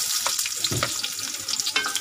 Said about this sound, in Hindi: कांदे को हमें अच्छे से भून लेना है